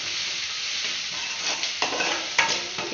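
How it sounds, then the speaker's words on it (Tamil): Tender okra sautéing in hot oil for vendaikai thokku, a steady close sizzle with scraping stirs and a couple of sharper clinks near the end. "நல்லா இந்த மாதிரி வதக்கிக்கணும்."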